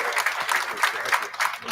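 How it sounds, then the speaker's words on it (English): A church-style audience gives a round of applause during a university board of supervisors meeting, steady dense clapping from a crowd, fairly close and continuous for a short burst with no talk over it. "a huge round of applause again"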